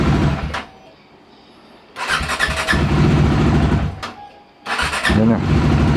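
A stubborn motorcycle engine cranks and catches in two loud bursts, running rough and close for a couple of seconds each, with a quiet lull between attempts.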